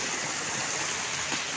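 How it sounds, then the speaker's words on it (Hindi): Water pours steadily at the Khoksso Benjora waterfall in Jashpur, a faint, continuous broadband rush heard from a distance with no voices over it. "शायद आवाज़ आ रहे हैं पानी गिरने का"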